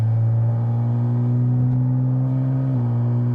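A Porsche GT4 RS engine drones at 2,200 RPM with a steady low intake hum and suction whir, holding nearly constant with a slight dip near the end, heard from inside the car.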